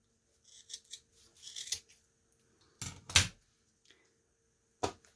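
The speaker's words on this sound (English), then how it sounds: "I cut about 3 or 4 inches off." Scissors snip through a tube made from tape, with a few quiet close-up crunching cuts followed by two louder, sharper snips and a final clipped cut.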